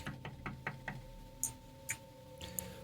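Door knocking in a video game: six quick, evenly spaced raps, then a few sharper, brighter knocks, all over a steady electronic hum with no talking.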